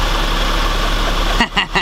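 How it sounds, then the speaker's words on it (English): A trials motorbike engine idles in a loud, steady, close-up drone that holds evenly, then breaks up at the end as a voice cuts in. "We're going to be taking the trials motorbikes out today"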